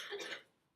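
A single short cough, brief and fairly close, fading quickly into quiet.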